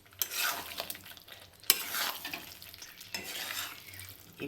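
Jackfruit and potato tipped into spices cooked down in oil in a wok, with scraping stirs and a crackling sizzle that rises and falls in three sweeping bursts.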